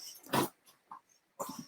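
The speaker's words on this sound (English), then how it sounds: "It's my dog." A dog gives short, low growls and grunts in a few separate bursts, close and fairly quiet, with silent gaps between.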